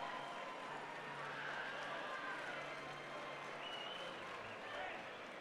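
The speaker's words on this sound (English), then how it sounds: "We want to give them both a nice round of applause for trying." Applause from the crowd at a Mount Carmel fight night for two boxers after a bout, a continuous wash of clapping and cheering that stays faint and even throughout.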